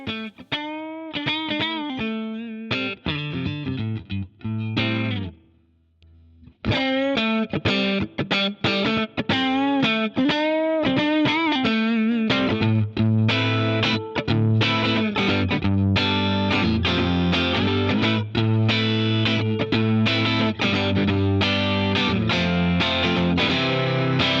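An electric guitar plays with a gritty overdriven tone, starting with melodic single notes, a brief pause, then fuller distorted chords and riffs.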